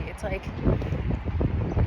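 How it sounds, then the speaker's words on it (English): Strong gusts buffet the microphone outdoors on a New York City street, a steady roaring rumble that swells and dips throughout, with someone talking over it while walking against the wind. "Oh my god, it's so windy. I'm walking against the wind."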